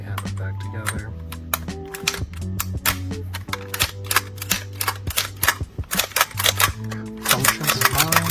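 Tokyo Marui airsoft gun with a newly replaced nozzle clacking through a function test, a dense series of sharp mechanical clicks and snaps in quick irregular bursts, close and loud over a steady low hum.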